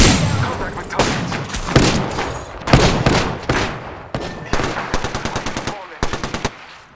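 Rapid machine-gun bursts and single shots crack through an Apex Legends firefight, loud, close and repeated in short staccato volleys with brief gaps, with a voice faintly underneath.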